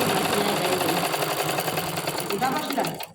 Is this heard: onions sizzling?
no